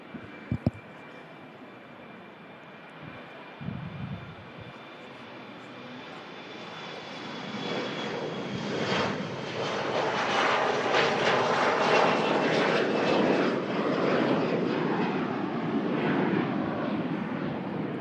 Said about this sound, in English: Short hop back to Paris Charles de Gaulle on the Embraer 170.